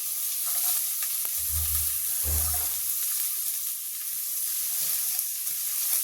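Onion frying in a pan, a steady close sizzle that runs throughout, with a couple of low thuds of stirring early on and no talk.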